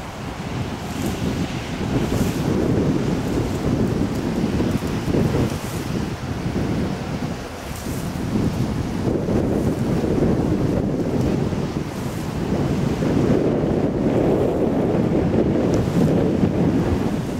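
Ocean surf rolls onto a Florida beach under steady, loud wind buffeting the microphone, with broad continuous wash and no speech.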